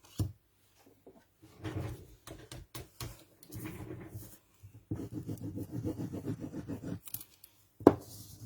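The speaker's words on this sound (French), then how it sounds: "on va le découper en diagonale pour nous faire les côtés de la carte" Scissors cutting diagonally through folded paper card, with a run of close, quiet snips and crisp scraping strokes, some rapid and rhythmic, separated by short pauses and a brief sharper click near the end.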